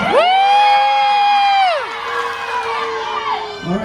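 A lively crowd at an outdoor lumberjack show shouts and whoops loudly, with high, sustained children's yells rising and falling over a constant roar of cheering from nearby spectators.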